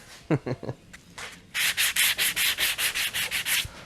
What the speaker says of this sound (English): whenever you're sanding something like this